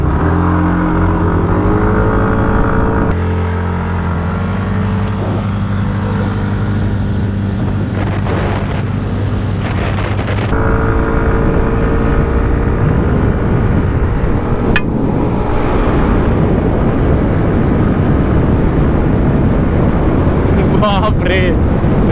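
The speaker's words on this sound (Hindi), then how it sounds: "भगा के देखते हैं दोनों स्कूटर्स को साइड बाय साइड" Yamaha Aerox 155 and TVS Ntorq 125 scooters accelerating side by side in a race, engines droning and rising over heavy wind buffeting on the microphone, loud and close throughout.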